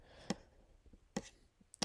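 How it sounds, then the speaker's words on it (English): Clicking samples in a house music track: three sharp, dry clicks spaced irregularly over about two seconds, quiet and alone with faint background between them. "These clicking samples"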